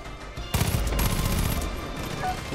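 In Far Cry 5, a gun unloads a sustained rapid burst of loud gunfire that starts abruptly after a quiet moment, then slowly thins and fades toward the end.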